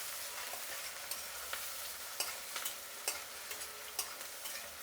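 Onions with a little curry leaf fry in a pan for a stuffed eggplant curry, crackling continuously up close while a utensil scrapes and taps the pan at irregular intervals.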